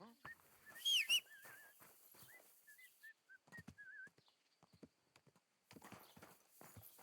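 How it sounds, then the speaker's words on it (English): A character whistles a string of short wavering notes in the video game Kingdom Come: Deliverance II, heard over rhythmic horse hooves clip-clopping nearby. "Don't whistle here."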